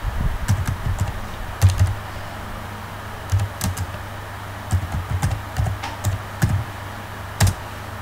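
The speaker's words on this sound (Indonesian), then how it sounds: "Sebagai contoh saya akan mengetik ya." Keys clatter on a computer keyboard in irregular bursts of quick taps separated by short pauses, close and moderately loud over a low steady hum, with no speech.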